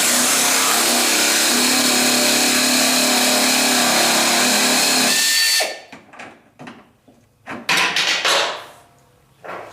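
A power tool drives a self-tapping bolt into a front bumper bracket on a 1976 Corvette, a loud, continuous high-pitched whine for about five seconds that stops abruptly, followed by clanks and scattered shorter bursts.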